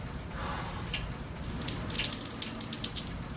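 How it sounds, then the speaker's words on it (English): Water running from a tap into a water bottle, a steady, soft splashing hiss with faint trickling and dripping accents, continuous and fairly quiet with no talking. "I just got to fill up my water bottle."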